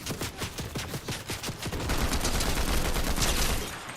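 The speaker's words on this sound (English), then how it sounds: "Where did I just get sniped at from?" Gunfire erupts in an online shooter game: a quick run of sharp repeated shots, then a loud sustained blast-like roar that fades near the end.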